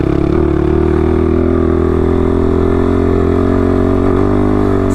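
A motorcycle engine running steadily at speed during a hot desert training ride, a loud continuous drone with a constant pitch and no talking.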